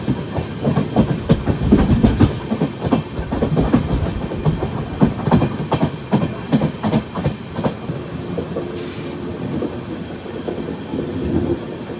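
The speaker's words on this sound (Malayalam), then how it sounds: "നേത്രാവതി എക്സ്പ്രസ് നേത്രാവതി നദി കടന്ന് മംഗലാപുരം എത്താറായി" The Netravati Express rolls over the rails near Mangalore, where it crosses the Netravati river. A loud, steady rumble carries rhythmic clickety-clack wheel beats throughout, easing slightly toward the end.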